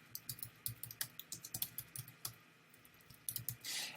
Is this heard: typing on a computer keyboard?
yes